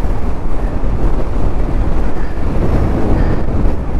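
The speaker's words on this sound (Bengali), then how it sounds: "হাওয়াটা থামছে না তো" Strong, steady wind buffets the microphone on a swaying mountain bridge along a motorbike route in Mustang, Nepal, a dense continuous roar with no speech.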